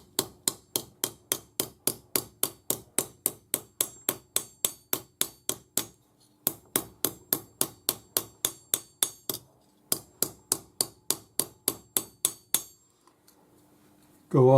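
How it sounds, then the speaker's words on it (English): A cross peen hammer flattens metal for a leaf bangle with close, loud, evenly spaced ringing strikes, delivered in three long runs separated by brief pauses. "So the first thing we'll do is hammer it flat."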